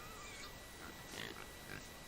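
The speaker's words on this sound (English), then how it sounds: "listen to pigs" Pigs grunting and oinking in two short, faint bursts over a steady background hiss, with no voices.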